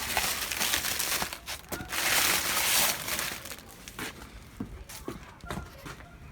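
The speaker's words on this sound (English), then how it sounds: "And now the time that we were all looking for, the unwrapping." Packaging around rear diffuser car parts is unwrapped close up, with bursts of crinkling and rustling plastic and paper, some sharp crackles and quieter pauses.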